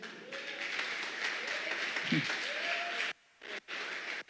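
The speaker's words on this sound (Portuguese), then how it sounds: "Se for para aplaudir, aplauda mesmo." A church congregation at an evangelical seminar applauds with dense, steady clapping that cuts off abruptly near the end, then resumes in short bursts, while a voice is faintly heard over it.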